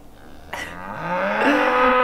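A cow bellows in a snowy Idaho pasture, a drawn-out rising moo that swells louder toward the end, close by, with no voices.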